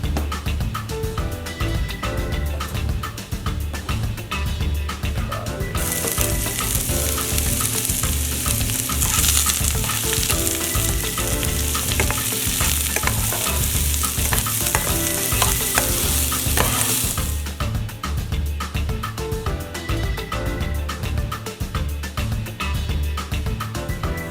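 Onion frying in hot oil, a continuous close sizzle with steady stirring and scraping, and a stretch of louder bright hiss in the middle.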